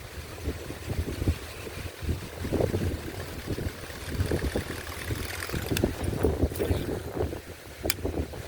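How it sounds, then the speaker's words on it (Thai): Strong wind blows hard outdoors, buffeting the microphone in continuous rough gusts with a deep rumbling roar and no voices. "ลมพัดแรงๆอย่างนี้"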